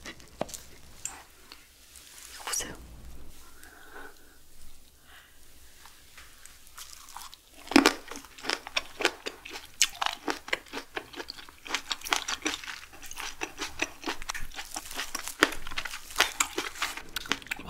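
Close, crisp crunching and biting of jamón ham in an ASMR eating session, quiet at first, then steady dense chewing and crackling bursts with no talking.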